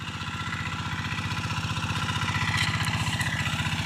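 A G1000 Boxer hand tractor engine chugs steadily at close range while plowing and forming ridges on rain-fed, hilly dry farmland, a fast even thumping pulse that holds for the whole stretch with a little clatter on top.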